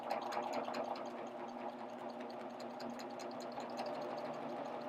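Sewing machine running steadily while stitching off a fabric edge on a wave stitch, with a continuous, even mechanical whir and rapid needle ticking, close and alone, no talk.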